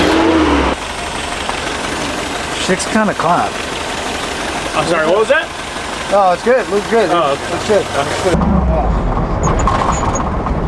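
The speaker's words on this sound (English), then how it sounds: "it's got an exhaust leak" A car engine with an exhaust leak idles roughly under a hot sun, a steady ticking rumble with some uneven bursts, close and loud beneath several people talking over it.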